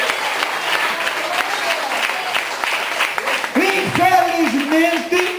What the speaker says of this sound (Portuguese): Palmas para o Senhor Jesus Cristo.